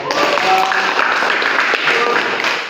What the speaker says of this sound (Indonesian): tepuk tangan untuk Hikmah